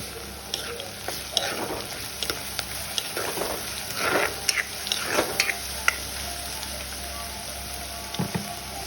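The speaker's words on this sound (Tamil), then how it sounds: "இப்போ நாங்கள் இடித்து வச்சுருக்கிற இஞ்சி பூண்டு பேஸ்ட்டை போடுவோம்" Ginger garlic paste frying with onions in a pan crackles and sizzles close up, broken by repeated scraping stirs and soft knocks of the spoon against the pan, with no voice over it.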